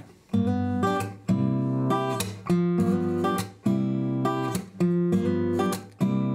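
A guitar strums two chords back and forth in a loose, bluesy groove, each bar landing with a strong strum followed by short ringing pauses.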